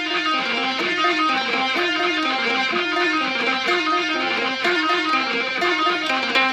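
A synth bass line with a second synth layered over it, from the intro of a song, plays steadily and fairly loud in a repeating pattern with no talking.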